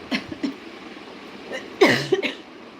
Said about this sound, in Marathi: खोकला येतोय